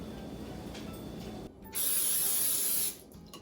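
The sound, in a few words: cooking spray sprayed on baking tray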